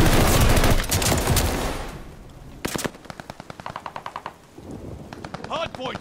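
Rapid machine-gun fire rattles around a hard point in a shooter video game: a loud opening barrage, then repeated tight bursts of shots, with game sounds continuing underneath.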